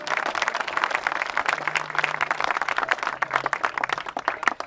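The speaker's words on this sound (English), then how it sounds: "Let's give my volunteers a big hand clap" Audience clapping for volunteers at a live event: dense, steady applause from many hands, sustained and fairly loud throughout, with a faint low hum underneath.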